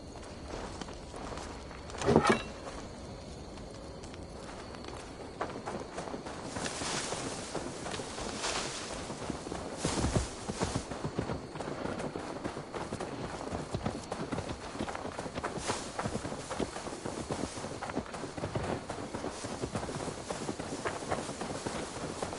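Horse hooves clip-clop steadily in Assassin's Creed Valhalla, a continuous trotting rhythm with a brief louder thump early on, under faint wind and ambient noise.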